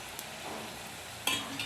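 Close, faint hiss of koroi snack pieces frying in oil in a wok, with a couple of soft clinks as the pieces are stirred or turned, and no talking.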